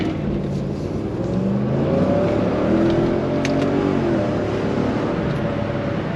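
A Mercedes CLK 430 V8 with primary and secondary catalytic converters deleted, running through the stock cat-back exhaust, revs up and down in smooth swells. It gives a steady, deep, close-up engine drone with no talking.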